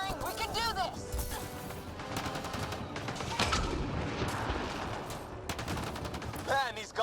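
Heavy gunfire crackles through a Mass Effect Andromeda battle in rapid bursts and volleys with occasional crashes, loud and close, while voices shout and talk over it.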